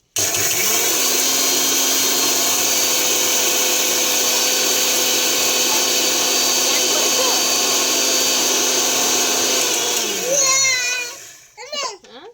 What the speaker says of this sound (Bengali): মিক্সিতে এখন গুঁড়ো করব, দেখো।